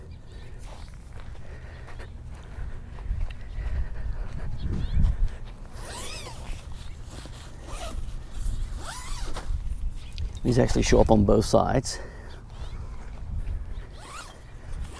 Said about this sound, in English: So not only can you zip it from the sides, but you can also zip it from the very front